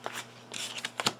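Exploration card decks for This War of Mine board game are shuffled by hand, a quick run of soft riffling and flicking card sounds, close and quiet.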